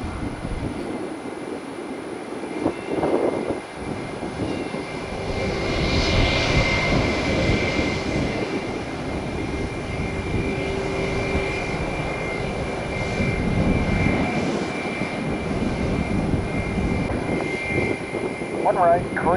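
A propeller plane or business jet passes very close at Tampa International Airport, its engine roar swelling loud and holding steady for many seconds before easing, with voices faintly audible underneath.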